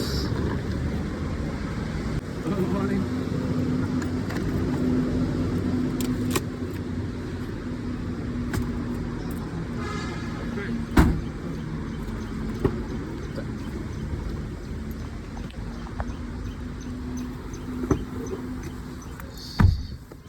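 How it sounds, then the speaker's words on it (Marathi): A Goa Trans car arriving to pick up travellers, heard as a steady rumbling engine and road noise across twenty seconds, with a few light jingles and clicks, moderately loud and close, no talking. "सो ही आपली गाडी आहे जी आपल्याला घ्यायला आली आहे"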